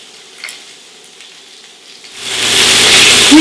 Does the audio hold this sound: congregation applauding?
no